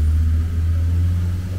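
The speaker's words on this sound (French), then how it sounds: "il y a du bruit, les voitures" A heavy, steady low rumble of road traffic dominates, a continuous engine drone from nearby cars with no clear breaks.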